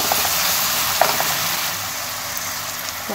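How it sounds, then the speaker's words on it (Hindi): Tomato paste frying and being stirred in a hot pan for daal mash, a steady close sizzle with a few soft clicks of a spoon against the pan. "इसमें टमाटर का पेस्ट डालेंगे तकरीबन दो। इसको अच्छे से मिक्स करके"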